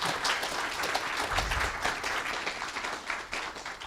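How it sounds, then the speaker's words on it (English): An audience at a live-streamed conference applauds, with continuous dense clapping at moderate volume that holds steady and tapers slightly toward the end. "Give them a round of applause."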